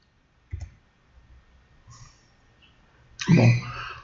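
Computer mouse clicks in a quiet room while working in LabVIEW software, a single sharp click near the start followed by a louder burst of clicking and handling noise near the end.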